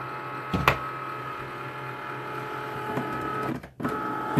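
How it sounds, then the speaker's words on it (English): Cricut Maker cutting felt, a steady mechanical whirring and motor hum with a few clicks and a short pause near the end, close by, no talking. "this is the new Cricut maker that cuts felt awesome"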